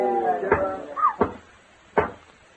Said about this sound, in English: Oh, it's just somebody at the door.